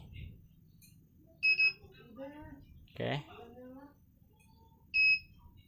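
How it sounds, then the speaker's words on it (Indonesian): Two short electronic beeps in quick succession from a Honda CB150R motorcycle's anti-theft alarm, later a single beep, with a person speaking quietly between them. "kalau bip 2 kali motor bisa dinyalakan, kalau bip 1 kali motor tidak bisa dinyalakan"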